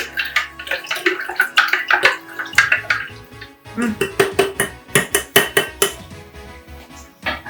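Close, clattering utensil scraping and clinking inside a bowl or pot as homemade zakwas, the fermented rye starter for Polish zurek soup, is stirred, with quick rhythmic strokes that speed up toward the end.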